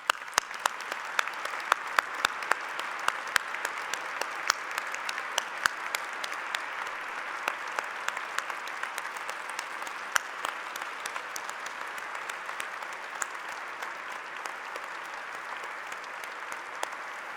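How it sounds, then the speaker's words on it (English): A large crowd at a university graduation ceremony gives long, sustained applause for the graduates, with sharp individual claps standing out early before the clapping settles into a steady, even wash. "Will you please join me in giving a humdinger clap of congratulations to all our"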